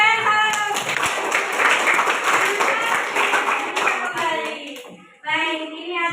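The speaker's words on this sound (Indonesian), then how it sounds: "Oke, tepuk tangan." A classroom of students claps together in a sustained burst of applause, with voices mixed in, then a brief pause and a short final round of clapping.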